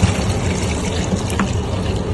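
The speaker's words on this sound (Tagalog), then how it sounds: "Then after, lagyan natin yung tubig." Water poured into a pan of sautéed sardines and eggplant, a steady trickling splash over a low cooking sizzle, close and fairly loud.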